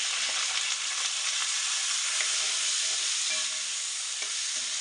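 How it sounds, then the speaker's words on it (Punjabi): Onions frying with garlic in a pan for gobi kofta curry, a steady close sizzle throughout with a few soft stirring scrapes and no talk. "ਹੁਣ ਆਪਾਂ ਇਹਦੇ ਵਿੱਚ ਕਰ ਦਿੰਨੇ ਆ ਪਿਆਜ਼ ਐਡ"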